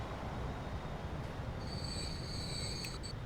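A train in the Transport Fever video game rumbles steadily along the rails while a high, thin wheel squeal rises partway through, with no talk.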